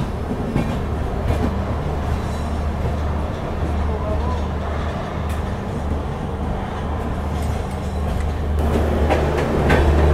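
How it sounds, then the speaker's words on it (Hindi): Kalka Shatabdi Express pulling into Ambala Cantt junction, a steady loud rumble of rolling coaches with rhythmic rail clatter, growing heavier toward the end, with faint background voices. "यहाँ हमारी ट्रेन अम्बाला कैंट जंक्शन पहुँचते हुए"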